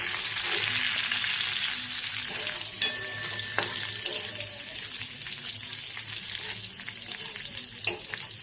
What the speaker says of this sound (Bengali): আর এটাকে নেড়ে নেবো মশলার গন্ধ না আসা পর্যন্ত।